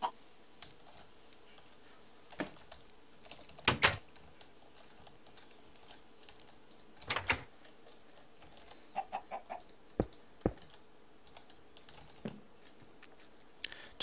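A chicken in a Minecraft modpack sends out a few short, quiet clucks at scattered moments, set between soft clicks of keyboard typing over a very low background.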